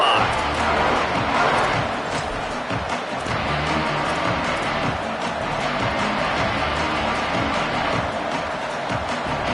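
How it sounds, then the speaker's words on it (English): A packed football stadium crowd roars steadily at the start of a 2027 season game, a dense, loud wall of cheering and shouting that holds without a break. "This crowd ready to make its presence known."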